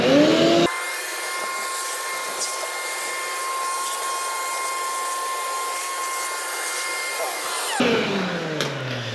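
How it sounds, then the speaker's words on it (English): A vacuum cleaner roars at a steady high whine for several seconds, cleaning spider webs and grass from an old Ford, starting and stopping abruptly, close and loud. "Drag the vacuum over here and get rid of some of those spider webs"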